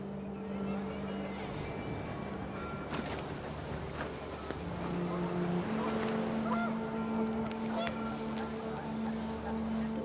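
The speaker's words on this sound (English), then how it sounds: "The wind picked up, and panicked geese appeared and quickly went." Panicked geese in the game What Remains of Edith Finch, honking calls rising amid wind and a steady droning background, with a voice narrating over the scene.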